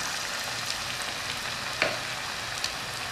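Steady crackling sizzle of pakora batter frying in hot oil, with a brief sharper pop partway through; no voices.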